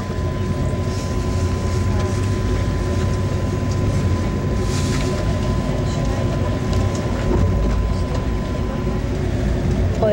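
A Norfolk Southern freight train rolls through a freight yard with a steady, loud rumble and the grinding roar of wheels on rail, continuous for the whole stretch with a faint tonal whine above.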